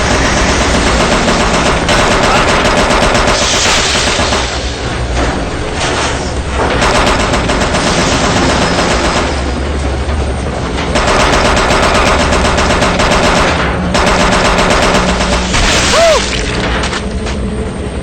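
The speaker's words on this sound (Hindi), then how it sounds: "मैं उस पर फायर करने वाला हूँ।" Sustained machine gun fire from a helicopter, loud and dense with rapid bursts and booms running nearly continuously, only briefly easing between volleys.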